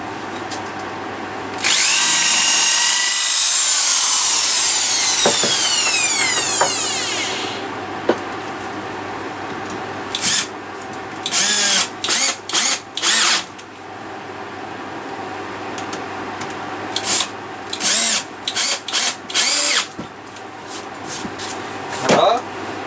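A cordless power drill drives two screws into a wooden robin nest box: one long whirring run that winds up and slows, then a series of short sharp bursts, with someone talking in between.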